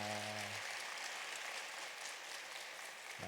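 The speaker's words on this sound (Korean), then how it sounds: "잠깐 일어나시면 저희가 큰 박수로 환영하겠습니다" A church congregation at a Sunday service at Daejeon Daeheung Baptist Church claps to welcome visiting missionary guests. The applause is faint and steady and follows a brief tonal note at the start.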